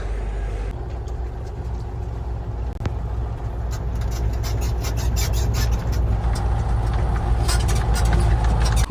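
Engine of a MAZ truck hauling wheat at harvest time, heard from inside the cab at night: a steady, heavy low rumble throughout, with rattles and small clicks on top.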